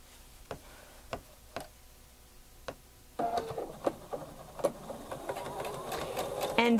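A sewing machine stitches jelly roll quilt strips into one continuous length, starting with a few sparse, isolated ticks before breaking into a steady, rapid stitching chatter that runs on to the end, close and moderately quiet.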